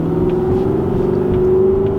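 A Genesis V8 accelerating hard in first gear with its exhaust cutouts open, a loud, steady engine roar with a rising tone, close and continuous with no talk over it.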